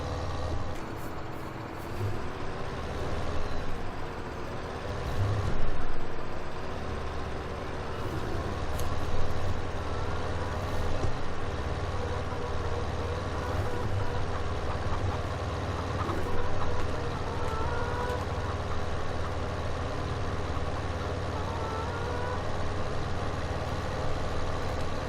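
A spraying tractor's engine in Farming Simulator 2015 runs steadily while reversing, a continuous low rumbling drone with small surges in level and no talk.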